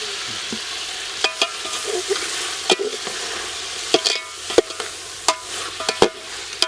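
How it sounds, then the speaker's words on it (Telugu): Chicken fry with ground spices and masala being stirred in a pan, a steady sizzle with repeated sharp scraping clicks of the spoon against the pan, close and fairly loud. "మధ్య మధ్యలో ఒకటి కలుపుకోవాలి మాడిపోకుండా మంచిగా కలుపుకోవాలి"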